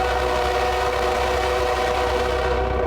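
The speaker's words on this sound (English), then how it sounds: "Then I get ready to blow the whistle." An Indiana Railroad three-car passenger train at 40 miles per hour sounds its whistle at a road crossing: one loud, steady sustained tone held for the whole stretch over the rumble of the train.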